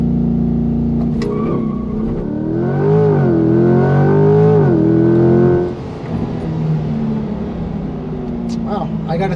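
A 2020 Chevrolet Corvette C8 launching hard in performance mode, its engine roaring up through rising revs for several seconds with tire spin, then easing off as someone talks over it.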